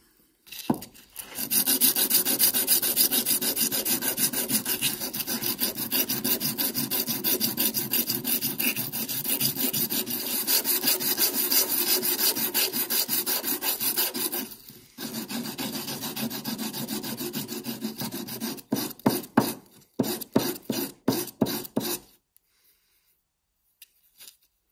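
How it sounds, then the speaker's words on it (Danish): Steel file rasping the edges of an old hammer head, a continuous loud scraping of steady strokes that pauses briefly midway, then resumes before breaking into a few short final strokes and silence. "Se, jeg får slebet kanterne af."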